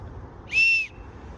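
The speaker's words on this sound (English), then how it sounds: "this is a nice little whistle." A small survival pocket-kit whistle gives one clear, shrill blast of about a third of a second, loud and close over a quiet background with no talking.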